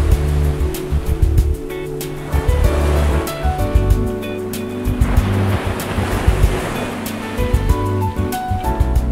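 Surf rolling onto the Pacific shore at Depoe Bay on the Oregon coast, a steady broadband wash with swelling breakers and some wind noise, no voices.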